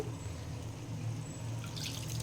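Water sprinkled sparingly into a cooking pan of thick South Indian thokku gravy, a soft trickling splash with a brief brighter spatter near the end over a steady low background hum.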